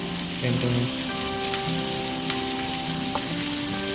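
Onions frying in a pan over a low flame give a steady soft sizzle with faint crackles and a few clinks, fairly close and moderately quiet, with no talking.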